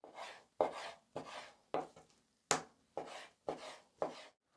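A knife cuts meat into strips for shawarma on a board, eight crisp, evenly spaced chopping strikes with brief scraping between them, close and clear with no talk.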